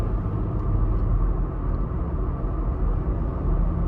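A constant low, rumbling hum of 37-inch off-road tires rolling on pavement, heard from inside a moving 2025 Jeep Gladiator Sport V6, steady and unbroken.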